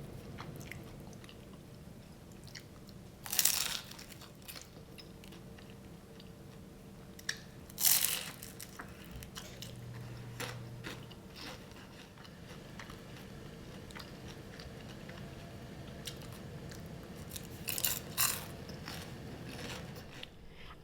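Crunchy fried Vietnamese vegetarian egg rolls being bitten and chewed, with three separate crisp bites spread out and soft chewing between them, close and fairly quiet, without talk.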